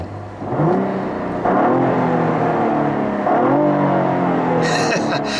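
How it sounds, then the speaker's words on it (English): A 2016 Cadillac ATS-V with a 6-speed manual is revved in its sport setting, the engine rising and falling through several loud, close blips that hold a steady growl between pulls, with a brief higher whine near the end. "Now when you rev up that motor, you can hear it sounds fantastic."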